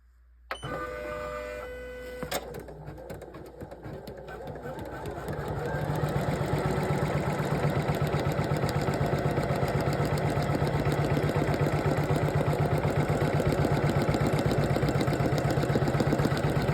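Poolin EOC06 single-needle embroidery machine stitching a placement line on a test blanket with tearaway stabilizer: a start-up beep, then a loud, steady, rapid mechanical stitching rhythm that builds and runs continuously up close.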